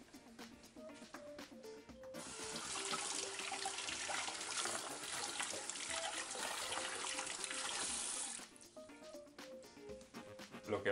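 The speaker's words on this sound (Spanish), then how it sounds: "Vamos a pasarles un agua." Tap water runs into a sink over peeled potatoes, a steady splashing rush lasting several seconds, with a person speaking before and after the flow.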